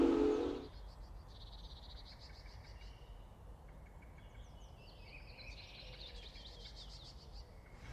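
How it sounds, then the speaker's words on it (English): Faint, distant bird chirps and calls in a zoo aviary holding teals, ducks and pelicans, scattered over a quiet background hum after a brief low thump at the start. "in the aviary. I've just been sitting down watching these teals and ducks and pelicans preening themselves"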